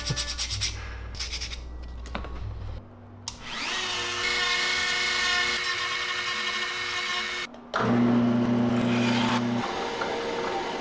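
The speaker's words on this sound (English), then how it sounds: "This makes a horrible noise when you sand it." Sanding a ribbed swimbait lure by hand, a harsh continuous abrasive rubbing with a steady tonal whine, loud and close, pausing briefly midway before resuming.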